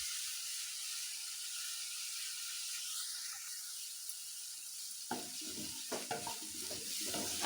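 Finely chopped garlic and green chili frying in hot oil, a steady soft sizzle and hiss that turns into clattering stirring noises near the end, with no voices.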